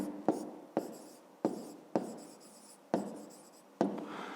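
Pen writing on paper during a fifth-grade geometry exercise, six quick scratchy strokes in an even rhythm, close and distinct with silence between.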